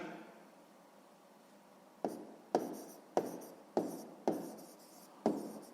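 Pen strokes on paper during a sixth-grade maths exercise, a soft rubbing hiss followed by six sharp, evenly spaced scratches close by, with no talking.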